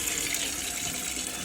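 Tap water runs steadily through a caravan's plumbing as the pump draws it, a constant broadband hiss and rush with no pauses, fairly loud and close.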